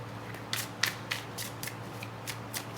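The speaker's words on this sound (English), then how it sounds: "cards don't want to shuffle." Tarot cards being shuffled by hand, a run of short crisp riffling bursts in an irregular rhythm, close and moderately loud against a low background hum.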